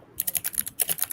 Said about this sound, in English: Someone's typing very loudly. Me, God. because my keyboard is loud.